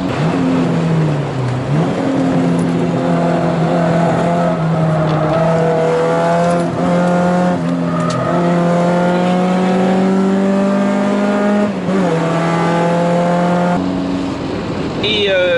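A race car lapping a circuit and overtaking a Porsche: a loud, continuous engine drone climbing through the gears, with repeated rising revs and shifts, heard alongside other cars and a voice talking over it.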